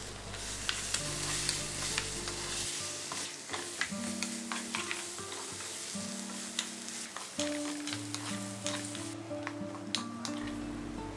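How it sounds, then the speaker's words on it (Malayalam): Sliced marrow (koosa) fries in hot coconut oil in a pan, a steady close sizzle broken by scraping stirs and soft clinks of a spoon throughout, with no talking. "ഇനി കൂസ നമുക്ക് ഈ വെളിച്ചെണ്ണയിലേക്ക് ഇട്ടിട്ട് ജസ്റ്റ് ഒന്ന് ഫ്രൈ ചെയ്തെടുക്കണം"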